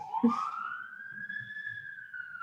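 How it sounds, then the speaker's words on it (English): A siren wails in the distance, one long steady rising tone holding through the clip, with faint background murmur beneath. "Sorry about the siren if you can hear it behind me."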